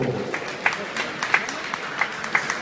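Crowd applause welcoming a performer at an agricultural fair in Beaumont-de-Lomagne, scattered, moderately loud claps with a few sharp individual hits standing out, and a voice briefly over it at the start.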